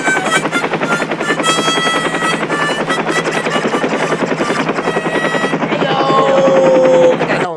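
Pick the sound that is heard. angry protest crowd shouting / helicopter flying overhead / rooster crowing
helicopter flying overhead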